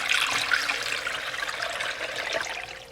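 Water pours steadily into a pot of chicken and garlic for soup, a bright splashing stream that runs continuously for a few seconds, close and fairly loud.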